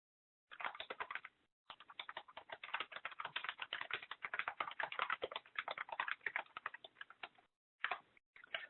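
Quick keystrokes on a computer keyboard rattle in dense, irregular bursts with two brief pauses, close and clear with no talking.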